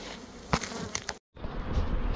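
A honeybee swarm gathered on a big branch at an apiary makes a dense, close, continuous buzz, broken by a short silent gap near the middle.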